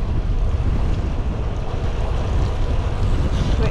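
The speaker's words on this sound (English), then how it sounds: "This is what you call windy." Strong wind roars steadily and loudly across the microphone while riding a Triban RC500 road bike on a blustery day, a dense low rumbling buffet with no talk.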